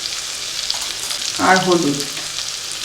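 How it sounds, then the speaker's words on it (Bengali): Fried onion and tomato sizzle in a pan with ground spices, cumin, chilli, turmeric and ginger-garlic paste, for potoler dorma. A steady close frying hiss runs throughout while a voice briefly speaks over it. "পেঁয়াজ আর টমেটো ভাজা ভাজা হয়ে গেছে।"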